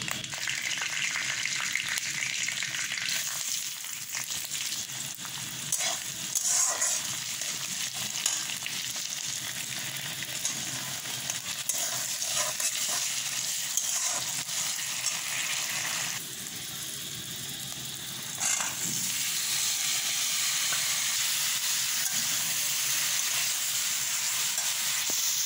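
Spices tempering in hot oil outdoors in sunlight, a continuous loud hissing sizzle with scattered pops and crackles and occasional stirring scrapes, sustained for about twenty-five seconds.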